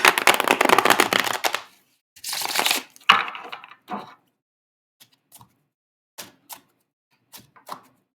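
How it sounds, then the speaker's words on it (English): A tarot card deck being shuffled: a few loud, dense riffling bursts, then sparse, soft taps and flicks as the cards are handled and laid out. "I'll shuffle it one more time just to see if we get anything else"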